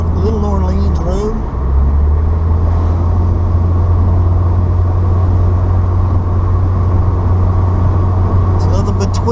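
A car drives along a forested back road, its engine and tyre rumble steady and close throughout, with a brief voice near the start.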